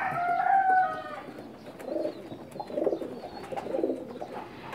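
A bird cries out briefly at the start, followed by soft, low cooing phrases from a Pakistani pigeon repeating a few times at a quiet distance.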